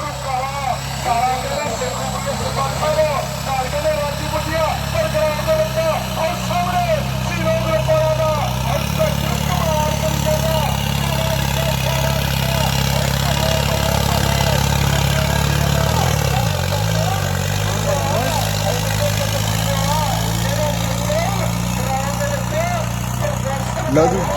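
A Sonalika tractor engine rumbles steadily nearby for a long stretch at a village trolley-pulling contest, a low continuous drone with slight revs, and voices faintly mixed in.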